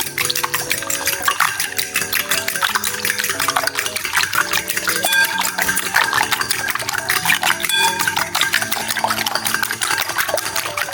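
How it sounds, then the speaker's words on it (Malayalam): Five eggs are whisked briskly in a bowl, a dense, continuous rapid clatter of the beater against the sides that stays loud and steady throughout, with no voices. "5 മുട്ട എടുത്തിട്ടുണ്ട്. നമുക്കൊന്ന് നന്നായിട്ട് ബീറ്റ് ചെയ്യാം."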